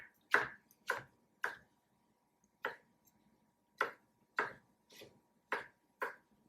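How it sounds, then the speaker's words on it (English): A knife cuts a tomato into small cubes on a cutting board, giving about nine crisp, close chops at irregular intervals with quiet pauses between them. "I'm just trying to cut it into little cubes"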